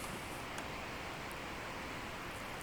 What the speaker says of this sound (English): it is quite windy out here